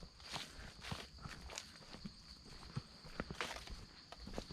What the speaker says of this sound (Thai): เดี๋ยวเราเดินไปดูอันที่สองครับ